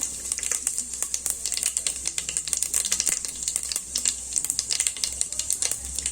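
Whole spices such as fennel seeds, bay leaf and cinnamon crackling in hot oil in a pan, steady bright sizzle with rapid sharp pops throughout, heard alone.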